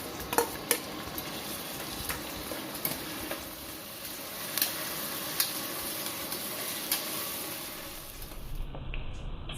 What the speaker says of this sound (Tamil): இந்த வெங்காயம் நல்லா வதங்கி கலர் கொஞ்சம் மாறுற வரைக்கும் வதக்கிக்கோங்க இந்த மாதிரி.